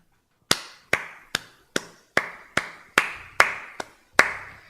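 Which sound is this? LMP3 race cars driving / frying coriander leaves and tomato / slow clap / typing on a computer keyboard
slow clap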